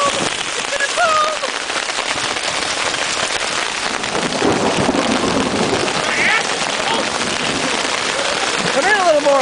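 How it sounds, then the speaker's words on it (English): Hail falling hard during a lakeside storm at Adams Lake in the Boundary Waters, a loud continuous clatter and hiss of pelting ice on surfaces, with people talking excitedly over it throughout. "Oh my god, look at all the hail."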